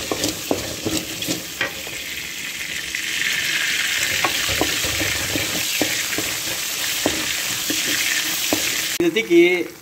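Mustard seeds, dried red chillies, curry leaves and coriander crackle as they temper in hot oil, with a steady sizzle, sharp pops and spits, then a loud hiss as the mix is stirred in.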